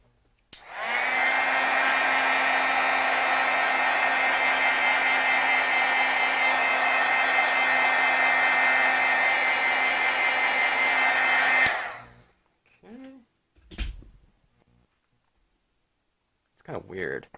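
A heat tool blows steadily for about eleven seconds to heat-set stamped ink, a loud continuous hot-air roar that cuts off abruptly, followed by a few brief handling clicks and knocks.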